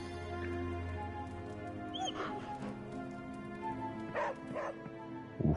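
Charlie the dog in Midnight Suns gives soft woofs and whimpering yips while being petted, with a low game music bed running underneath.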